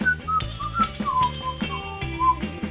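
A melodic whistled line from a song plays over a steady bass and drum backing, clear and prominent, in short phrased notes with a bouncing rhythm.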